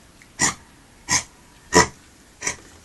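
A sick pet hacks and retches to bring up a hairball: four harsh, evenly spaced coughing bursts, close and fairly loud, with no talking.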